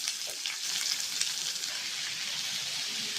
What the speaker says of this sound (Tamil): வெங்காயம் வதங்கிட்டு இருக்குது